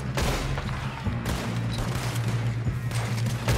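Gunfire in Red Dead Redemption 2 cracks out in a quick volley of several loud rifle shots. Sharp reports echo over a dense, noisy battle background with no talk.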